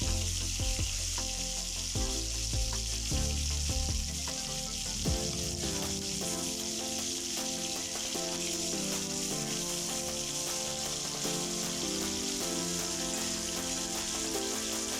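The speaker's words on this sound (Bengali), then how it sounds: "কড়াইতে মাছ ভাজার সময় তেলটাকে তোমরা একটু ভালো মতো করে গরম করে নেবে" Catla fish pieces frying in hot oil in a wok: a loud, dense, continuous sizzle like heavy rain, steady throughout with no talking.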